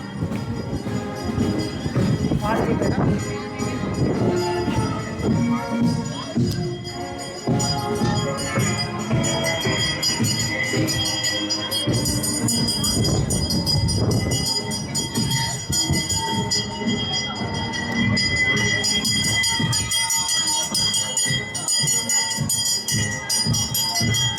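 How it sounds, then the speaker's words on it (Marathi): An old historic train at the Ravensburg Rutenfest in Germany rumbles and rattles continuously amid a festival crowd, with bell-like tones and occasional wheel squeals mixed in, while voices murmur in the background. "जर्मनीतला सुंदर असा इतिहास दाखवणारी माझ्या पाठीमागे जुनी अशी आगगाडी तुम्हाला दिसेल, म्हणजेच आपली रेल्वे गाडी"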